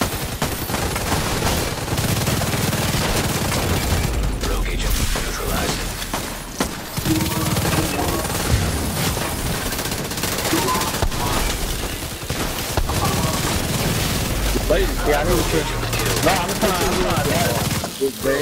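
Gunfire in The Division 2 video game, with dense continuous bursts and fusillades of shots throughout, loud and busy, mixed with game sounds and some talk.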